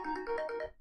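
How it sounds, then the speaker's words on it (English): A mobile phone ringtone plays a quick, melodic sequence of tones at moderate volume, cut off abruptly after under a second. "that's my phone here"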